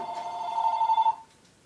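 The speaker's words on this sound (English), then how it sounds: "the phone's ringing" A telephone rings indoors with a single sustained electronic ring, fairly close and clear, then cuts off.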